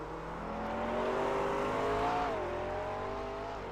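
GT3 race cars in a racing video game, several engines droning and whining together at steady high revs, one pitch briefly rising and falling as a car passes, moderately loud and continuous.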